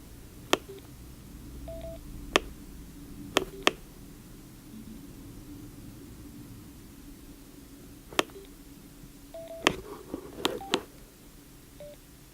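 A Sena motorcycle intercom headset entering intercom pairing mode gives short electronic beeps and tones, heard as sparse separate blips and a few quick clusters over faint background hiss, with no talking.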